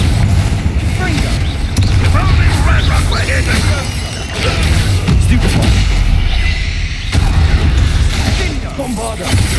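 Repeated Confringo fire spell blasts in the Hogwarts Legacy video game, heavy booming explosions with sharp cracks recurring every couple of seconds, loud and close, while a voice speaks between them.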